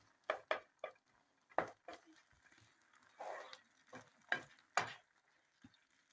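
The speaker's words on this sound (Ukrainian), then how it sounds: "ляємо томат домашній, мішаємо, ще трошки потушкувати" A spoon scrapes and knocks in a pan in irregular strokes while homemade tomato sauce bubbles and sizzles quietly underneath.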